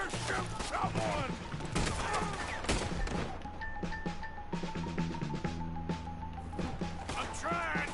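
Gunfire in the video game Red Dead Redemption 2 during a wagon shootout, scattered sharp shots and impacts mixed under frequent shouted dialogue and tense background music.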